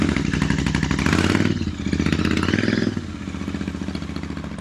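A Royal Enfield Interceptor fitted with baffled Leo Vince slip-on pipes starts up indoors. It settles into a loud, close, chugging twin-cylinder idle with slight swells in engine speed.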